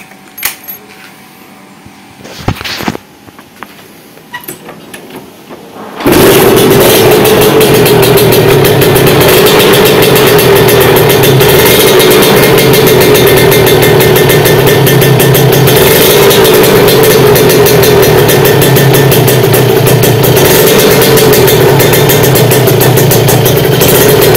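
A Kawasaki Ninja two-stroke motorcycle with a carburetor and an AIS air-injection setup starts after some faint clicks and rattling, then settles into a loud, steady, buzzing idle that runs on for the rest of the stretch.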